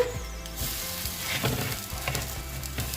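Gozleme, a Turkish cheese-filled flatbread, sizzling steadily in a hot pan, with faint clinks and scrapes from utensils close by.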